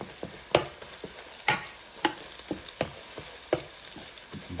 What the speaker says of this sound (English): So I'm gonna mix these eggs up just like this. Just break them up nice and good, just like that.